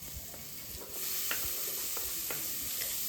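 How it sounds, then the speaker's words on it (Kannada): Cumin, onion and tomato frying in ghee in a pressure cooker, a steady soft sizzle with scattered crackles and pops, growing louder after the first second and holding evenly, no voices. "ನಂತರ ಇದಕ್ಕೆ ಸ್ವಲ್ಪ ಜೀರಿಗೆ ಹಾಕಿ ಏನು ಈರುಳ್ಳಿನೂ ಟೊಮೆಟೊ ಹಣ್ಣೆಲ್ಲ ಹಾಕಿ ಚೆನ್ನಾಗಿ ಫ್ರೈ ಮಾಡ್ಕೋತೀನಿ."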